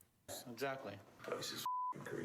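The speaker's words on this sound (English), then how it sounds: "It's just a high-pitched squeaking noise." A smoke detector with a low battery gives a single steady high-pitched electronic chirp lasting about a quarter second, heard between spoken lines in a quiet indoor room.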